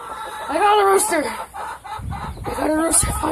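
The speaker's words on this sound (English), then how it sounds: "I finally got a rooster!" A rooster clucks and calls up close in an outdoor setting, giving several short, harsh vocal bursts, while a person talks excitedly nearby.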